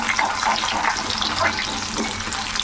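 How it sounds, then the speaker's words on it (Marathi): Finely chopped garlic fries in a pan for a lasuni methi dish, crackling and sizzling steadily up close with small bursts of spatter. "हा लसूण याच्यामध्ये टाकून घेतलं आहे छानपैकी हे परतून घ्यायचं आहे"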